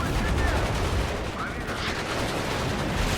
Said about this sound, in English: Our artillery's landing there.